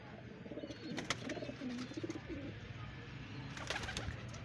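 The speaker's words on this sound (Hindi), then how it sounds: "ये मलक साहब के कबूतर हैं जी, बड़े लाजवाब परिंदे हैं जी" Pigeons in a fancier's loft coo softly in a few low, rolling calls over faint background noise.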